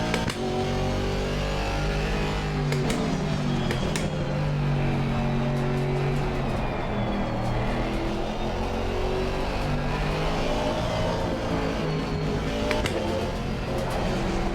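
Mercedes AMG GT4 race car engine in Assetto Corsa Competizione, held under throttle: a loud, continuous droning roar whose pitch rises and falls with gear changes and revs, up close and with no talking.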